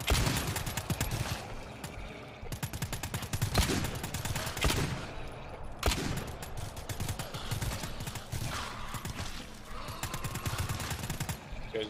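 Video-game gunfire crackles in rapid bursts: fast machine-gun rattles and volleys of shots keep going throughout, with brief lulls and sharp spikes, loud and close.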